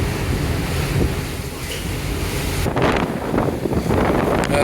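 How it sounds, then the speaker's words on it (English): Strong wind buffets the microphone on the open deck of a ferry crossing to Gozo, a loud steady roar with sea and engine rumble beneath, gusting harder midway. "right up here at the moment on the boat, on the deck, with this wind coming through, it's got a bit of a nip to it"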